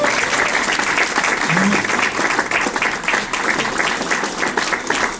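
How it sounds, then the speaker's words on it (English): A large audience breaks into loud, dense applause at the close of a business talk, steady sustained clapping close by with a murmur of voices mixed in. "A big round of applause, please"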